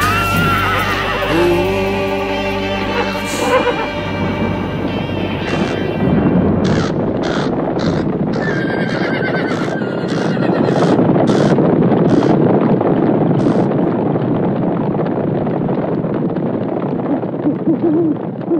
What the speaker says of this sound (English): Can you hear the horses?